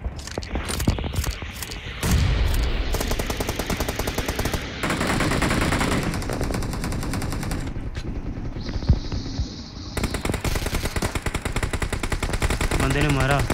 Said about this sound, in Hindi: अरे शॉटगन से बंदे मार रहे हैं